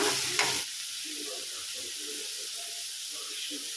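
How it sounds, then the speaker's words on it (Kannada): Spices frying in a pan for a fish curry masala (bootai pulimunchi, a coastal fish dish), a steady close sizzle with stirring after a brief louder burst at the start, no talk over it. "ಇದಿಷ್ಟನ್ನು ಹಾಕಿ ಚೆನ್ನಾಗಿ ಫ್ರೈ ಮಾಡ್ಕೊಳ್ಳೋಣ"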